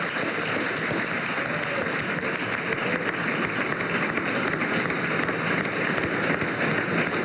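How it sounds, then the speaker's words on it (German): A crowd at a televised sports event applauds fencers, dense sustained clapping that fills the whole stretch at a steady loud level. "Grossen Applaus für euch."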